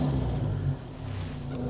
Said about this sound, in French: On disait toujours que ces moteurs-là, un petit bruit de machine à coudre.